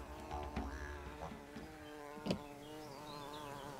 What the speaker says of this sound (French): Une nature généreuse qui nourrit les abeilles de Martial